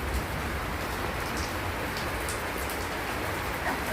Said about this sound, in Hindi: यहाँ पर बारिश शुरू हुई